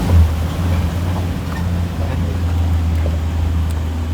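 An amphibious vehicle crosses a river near Desa Tumbang Habangoi on the way to Gunung Bukit Raya in Central Kalimantan: a steady low engine drone mixes with continuous water wash and rushing noise, loud and close throughout.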